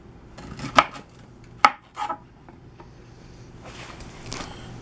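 Knife slicing through thick vegetable stalks for a chuck roast dish, with a few sharp chops against a cutting board spaced irregularly, then softer cutting and board scrapes, close and fairly loud.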